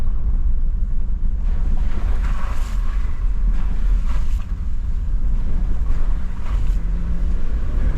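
A 4WD vehicle grinding up a creek bed on the West Coast gives a loud, steady low engine rumble mixed with rushing water and wind buffeting the microphone, with brief splashy surges throughout.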